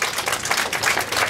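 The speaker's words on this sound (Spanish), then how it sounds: "Un fuerte aplauso para ellas también" An audience at a public event in Bolivia claps, a brief, dense burst of many hands with rapid uneven patter, fairly close and loud.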